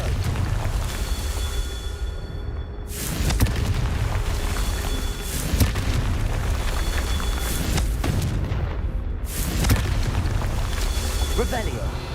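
Explosive fire spell in the game Hogwarts Legacy: several loud booming blasts with rumbling, fiery bursts over a dense, roaring background of game sound, close and heavy.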